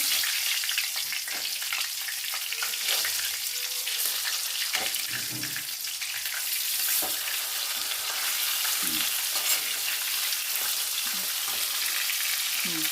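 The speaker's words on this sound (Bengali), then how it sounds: "এখন এই যে মাছটা ভাজা হচ্ছে, দই মাছের মাছটা ভাজা হচ্ছে" Fish frying in mustard oil for doi maach, a dense close crackle and hiss that holds steady throughout, with occasional soft knocks of a utensil.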